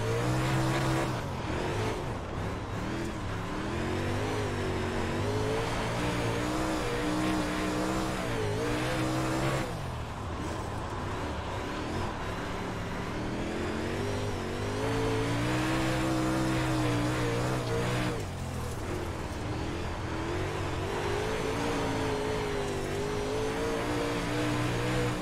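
Dirt race car engine in the iRacing sim at Lincoln track, revving loud and continuous with rising and falling throttle sweeps, tire scrub mixed in, steady near engine drone throughout.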